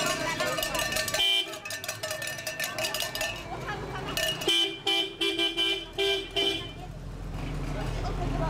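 A car carrying a bride to her husband's house with a convoy of women, horns tooting in repeated bursts over music and chatter, loud and close, with a rumbling engine toward the end.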